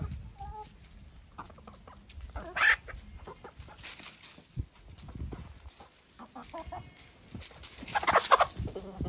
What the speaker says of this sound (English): Quit picking on that hen.